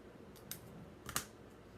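Scissors trimming paper card for a handmade card, two short crisp snips about half a second apart, close and alone in a quiet room.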